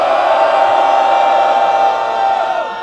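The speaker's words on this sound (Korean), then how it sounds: "그 많은 해외 동포분들 위해서 큰 함성 한번 화답으로 들려줍시다." Large crowd at a peace rally roaring a loud, sustained cheer, voices blending into one broad shout that holds steady before easing off slightly at the end.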